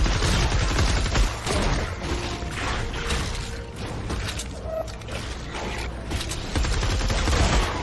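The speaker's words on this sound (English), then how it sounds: "He's trying to shoot at me, take some cover." Gunfire and mechanical clatter in the video game Fortnite Save the World, dense rapid bursts and rattling impacts layered over a busy, loud game soundscape.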